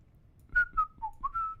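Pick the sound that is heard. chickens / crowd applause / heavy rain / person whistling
person whistling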